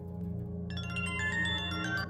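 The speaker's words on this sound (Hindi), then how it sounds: "अभी बेल बजेगी" A telephone bell rings in a Hindi-dubbed action movie, starting after a low musical drone with a bright, rapidly trilling ring that continues to the end, clear and fairly loud.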